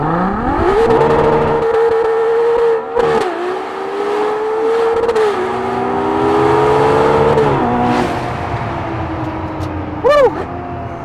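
A Ferrari 812 Superfast's naturally aspirated 6.5-litre V12 screams up through the revs in long rising pulls on a country road, shifting gears repeatedly, loud and close.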